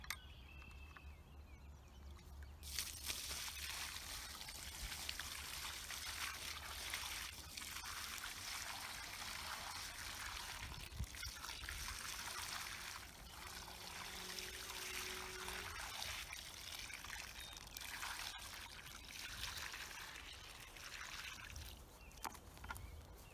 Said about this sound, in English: We're gonna pour 5 gallons of water here this first day